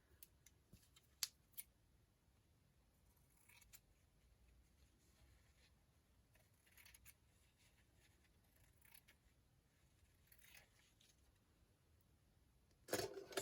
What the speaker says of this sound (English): I will cut away the excess.